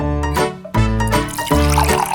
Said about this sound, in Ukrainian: Потрібно додати трохи води.